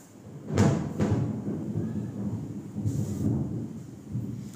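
Rumbling thunder from a storm rolls through in two heavy cracks near the start, then continues as a low, sustained grumble with rising and falling swells, loud and close with no talking.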